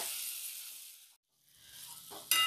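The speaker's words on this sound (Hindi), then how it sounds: "टमाटर और मटर को लगातार चलाते हुए अच्छी तरह से पका लेते हैं" Peas and tomatoes sizzle steadily in a pan as they are stirred. The sizzle drops out briefly midway, then returns with stirring clatter and a sharper burst at the end.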